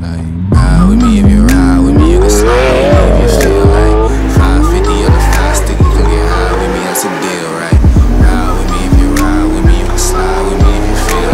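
A Lamborghini launches hard on a rough road in a 0-to-100 acceleration run against an Audi TT. The engine is loud and close, climbing through rising revs with sharp gear-change breaks, and tire squeal runs alongside it.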